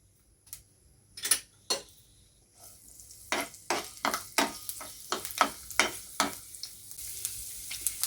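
Garlic and fresh ginger hit hot oil for a chilli chicken masala: a few isolated clicks first, then a quick run of rhythmic ladle scrapes over a soft sizzle, nearby and fairly quiet.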